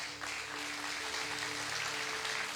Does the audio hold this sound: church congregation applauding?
yes